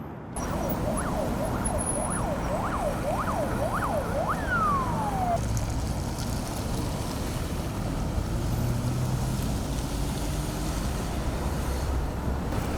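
A siren wails in rapid rising-and-falling cycles for a few seconds, then slides down in pitch and cuts off, leaving steady road and wind noise.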